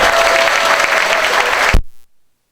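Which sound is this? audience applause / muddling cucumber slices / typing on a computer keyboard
audience applause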